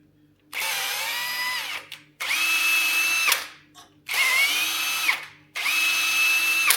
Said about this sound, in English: I'm just using the taper tap